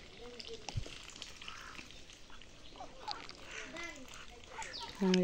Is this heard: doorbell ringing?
no